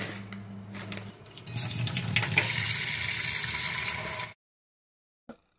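Soaked moong dal being washed under running water, a steady splashing, rinsing wash that is loud and close for about four seconds before stopping abruptly, with a brief clatter near the end.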